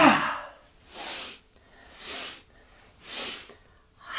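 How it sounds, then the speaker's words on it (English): Three rhythmic breathy bursts in a Breath of Joy breathing exercise, each a strong, hissing exhale-like rush of air about a second apart, following an opening breath, close and clear with no talk. "Inhale forward, inhale to the side, inhale overhead, exhale"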